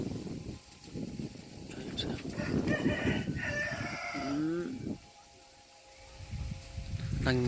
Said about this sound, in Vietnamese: Đằng xa xa kia mới xây kia là cái chuồng gà của mình ấy